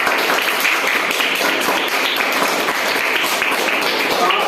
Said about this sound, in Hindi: तो जोरदार ताली दियो